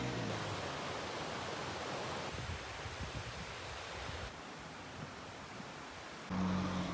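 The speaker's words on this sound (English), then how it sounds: "the only sounds were the rush of water, the rustling of leaves, and the occasional birdsong" Water rushes steadily along a forest stream trail at Oirase, Japan, a broad continuous wash of sound with faint rustling and no talk.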